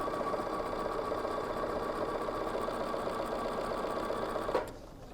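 A Bernina sewing machine stitches a T-shirt quilt strip, running at a steady fast hum with rapid needle chatter up close, then stopping abruptly near the end with a small clunk.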